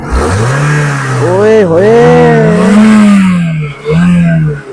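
The 1.8-litre, 1800cc inline-four engine of a 2010 Honda Civic 1.8S is revved repeatedly, its loud, close tone rising and falling through several blips while men exclaim over it.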